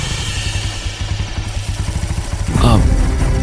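A motorcycle engine putters steadily nearby at idle, its low rhythmic thumping rising slightly as it comes to a stop, with no talk over it.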